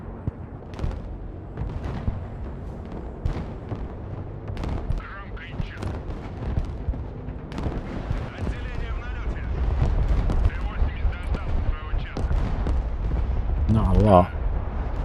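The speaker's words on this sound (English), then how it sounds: "I don't know what they're firing at." Battle in the Broken Arrow video game: continuous dense gunfire and thudding artillery, near and far, building in intensity toward the end, with someone talking over it.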